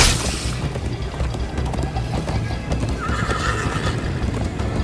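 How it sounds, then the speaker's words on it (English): A horse gallops and neighs in the Minecraft Story Mode game, with steady clip-clop hoofbeats over a loud rumbling bed. A clear whinny rises near the end. "First time on a horse here."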